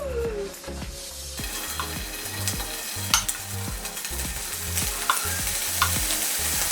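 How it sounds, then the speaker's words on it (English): Bacon and prawns frying in hot oil in a pan, a steady loud sizzle and crackle close up throughout, with a regular clunking rhythm from stirring and a few sharper pops. "once the oil is ready, you want to go in with some bacon, and then we're adding in the prawns"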